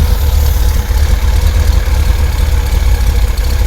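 A 1973 Datsun 240z engine with dual 32/36 DGV Weber carburetors idling, a loud, steady low rumble with an even pulsing beat, close up and continuous.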